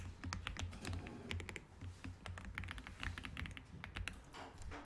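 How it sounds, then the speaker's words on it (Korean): Fingers typing on a computer keyboard, including a press of the F7 key: a quick run of sharp, close clicks and taps, fairly faint and steady, with no voice. "자, 키보드에서 맨 위에 키보드에서 F7을 눌러줄게요."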